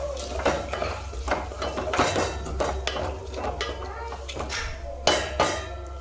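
Whole spices (bay leaves, cinnamon, cardamom, cloves) stirred in a cooking pot for chicken curry: repeated metallic scrapes and clinks of a spoon against the pot over a low steady background hum, with a sharper knock near the end.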